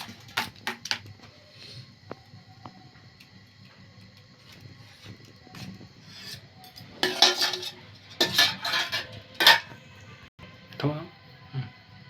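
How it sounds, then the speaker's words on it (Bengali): A spoon scraping and tapping as a cabbage and egg mixture is transferred into a metal tiffin box, with scattered clinks and a few louder bursts of metallic clatter near the end. "এবার হচ্ছে আমি এই টিফিনটাতে এগুলো দিয়ে দেবো"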